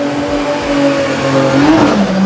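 A Volvo drift car with a small rotary engine revs hard at a drift event, a loud, sustained buzzing engine note that climbs in pitch near the end, heard alone without talk.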